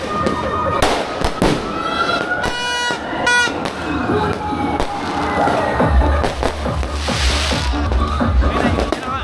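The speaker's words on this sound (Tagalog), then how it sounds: "Binibidyo ko ng fireworks." Repeated New Year's Eve fireworks bursts crackle and pop throughout, with sharp bangs and a dense crackling patch later, while people chatter in the background.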